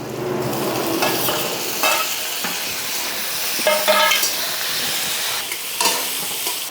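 Chopped onion and tomato hit hot oil for a Bengali-style duck curry, giving a loud, continuous close sizzle broken by several stirring scrapes against the pan.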